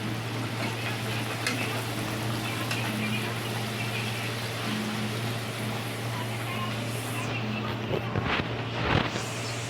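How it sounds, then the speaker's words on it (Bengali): Naan puri dough dropped one by one into hot oil, giving a steady, close, dense bubbling hiss that runs throughout, with a few brief knocks and a small disturbance near the end. "আমি এবার একটা একটা করে ছেড়ে ভেজে নিচ্ছি নানপুরিগুলোকে।"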